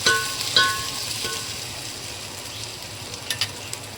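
Onions frying in a pan for biryani gravy: a close, steady sizzle with a few brief crackles and stirring taps, no voices.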